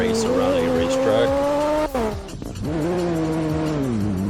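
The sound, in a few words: Mazda RX-7 tires skidding while drifting in Roblox racing game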